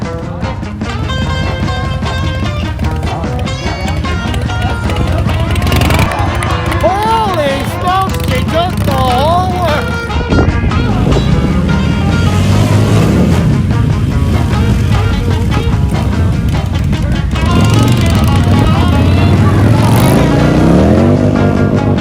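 Motorcycles at a biker rally rev and roar through a barrel race, engines rising and falling loudly amid crowd noise and people talking over a PA.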